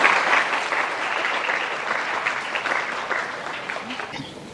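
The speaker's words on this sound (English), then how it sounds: "Can we have a huge round of applause for Dr. Deborah Thiagarajan, please?" An audience at a heritage museum event breaks into dense, sustained applause, a steady wash of many hands clapping that stays strong and fades slightly at the end.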